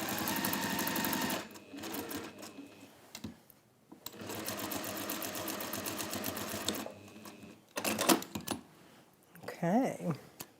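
Sewing machine stitching fabric in bursts, a rapid mechanical rattle that starts and stops several times with short pauses, close and clear, with brief clicks and handling noises between runs.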